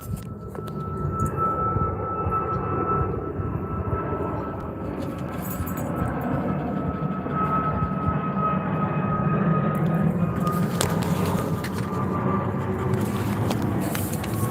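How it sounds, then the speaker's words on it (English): A United Airlines jet passing overhead outdoors, a steady broad engine roar with a faint whine that swells slightly and holds for the whole stretch, with no talk. "got a jet here coming overhead"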